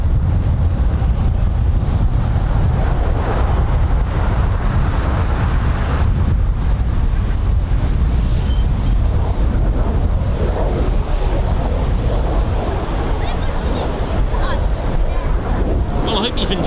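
Eurofighter Typhoon FGR4 jet engine spooling up at RAF Coningsby, a loud steady roar with heavy low rumble and wind buffeting throughout, voices talking over it.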